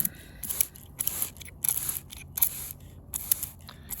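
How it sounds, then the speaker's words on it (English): A spray bottle squirts close up in a quick series of short hissing bursts, about a dozen in an uneven rhythm, misting cactus seeds. "just get my spray bottle and"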